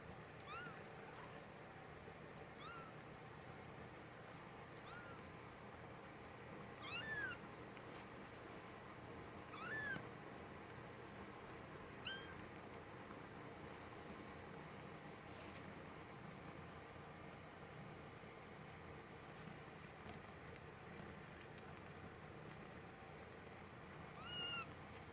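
Kittens, bottle-fed babies awaiting adoption, give a handful of faint, thin meows spaced several seconds apart over a steady low background hum.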